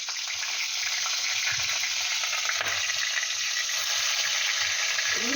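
Crabs sizzle in hot oil in a kadai, a loud, dense, continuous frying crackle close up, with faint stirring knocks and no talk.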